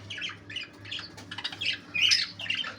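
Budgie parrots squawking and chattering in a rapid series of harsh, bright calls, close and fairly loud, with a low steady hum underneath.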